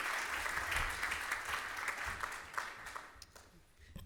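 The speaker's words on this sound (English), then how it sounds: "give her a big round of applause" A conference audience at a plenary session claps to welcome a speaker, a fairly faint but continuous wash of applause that gradually tapers off.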